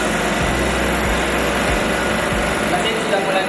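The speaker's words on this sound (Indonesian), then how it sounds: "Mesin sudah mulai nyedot freon yang ada di sini ke dalam." A refrigerant recovery machine runs steadily while drawing freon out of a system, giving a constant high motor hum with a faint rhythmic thumping beneath, fairly close and even throughout.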